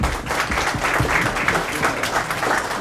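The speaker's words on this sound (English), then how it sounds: "I think we all owe them a round of applause" Steady applause from an audience at a yacht club candidates' night honoring the club's flag officers, a dense, even wash of many hands clapping, moderately close and sustained throughout.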